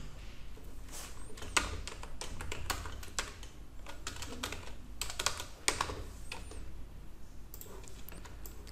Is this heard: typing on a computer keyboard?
yes